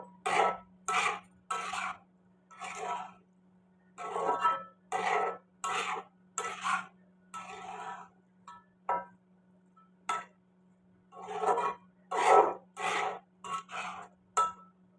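A spoon stirs puliyodharai, tamarind rice, in a pan with the stove turned off, scraping in short bursts about a second apart, close and fairly quiet over a faint steady hum.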